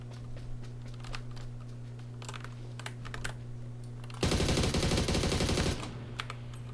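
Automatic gunfire from a PUBG Battlegrounds match bursts in loud and dense for about a second and a half, following quiet keyboard and mouse clicking with a steady low hum underneath.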